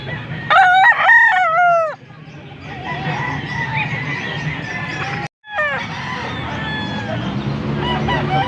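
A stag rooster crows once, loud and near, at a gamefowl market in Angeles, Pampanga. Clucking and chatter from other birds follow and carry on through the noisy market background.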